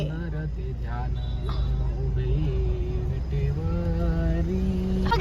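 Busy road traffic on the approach to a temple in Shegaon during a crowded day, with engines droning steadily and vehicles passing close by throughout, heard beneath people talking.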